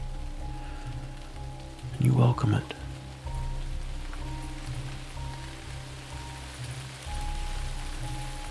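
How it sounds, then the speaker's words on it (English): Gentle rainfall pattering softly and steadily in the background of a somber fantasy setting while a narrator speaks calmly over it. "The soft rain is cooling,"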